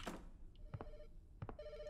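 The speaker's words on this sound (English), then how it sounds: "Oh, phone call." A telephone rings in a horror video game, bursts of an electronic ringtone repeating in a steady rhythm, quiet and close, with faint thuds between the rings.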